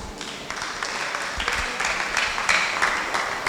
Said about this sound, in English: Applause for Professor Adeduru Adegayi.